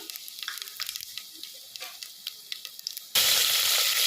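Light crackles and pops of cinnamon, cloves, cardamom and fennel hitting hot oil, then a sudden loud, steady sizzle and hiss takes over for the last second.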